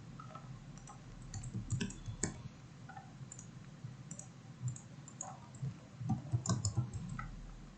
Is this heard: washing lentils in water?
no